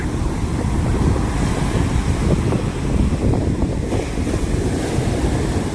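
Sea surf at Chennai's Marina beach rolls in as a continuous loud roar, heavily buffeted by wind noise on the microphone, with no distinct individual wave crashes.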